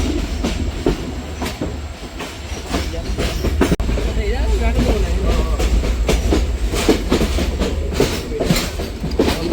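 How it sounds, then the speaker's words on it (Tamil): Yarl Devi train on the Colombo to Jaffna line, heard from on board as a steady loud rumble with repeated rhythmic clacks and squeals, and voices talking over it throughout. "ட்ரெயின் போகுதுண்டு"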